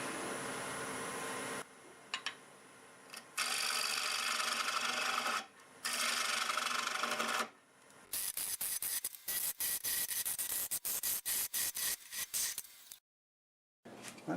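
A redwood crotch bowl is hollowed on a wood lathe. The tool scrapes and rasps against the spinning wood in long loud bursts, then turns into rapid chattering cuts, with short pauses between passes.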